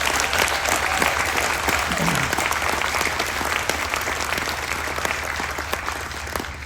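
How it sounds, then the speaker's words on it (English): A cruise ship audience at a Memorial Day celebration gives veterans and active military personnel a sustained, steady round of applause, dense and even throughout, with no voices breaking through. "please help me give a massive round of applause, not only to our veterans, but our active military personnel as well too"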